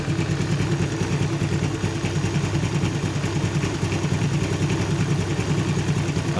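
A Suzuki Shogun 110 motorcycle engine idles steadily at close range, a continuous low chugging with a faint rattle throughout.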